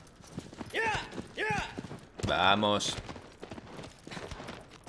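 Horse hooves clip-clopping in the video game Shadow of the Colossus, steady rhythmic thuds running under a man's speech and a loud in-game sound burst.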